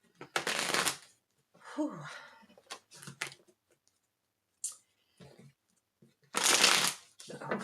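Tarot cards from the Gilded Tarot Royale deck get shuffled in several short riffling bursts separated by pauses, with a soft exhale and a few light clicks between them.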